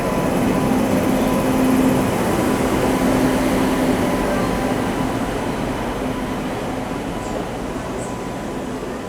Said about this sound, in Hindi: 22181 Jabalpur to Hasan Nizamuddin super fast express, जो कि प्लेटफॉर्म नंबर 2 पर आ गई है ग्वालियर जंक्शन पर।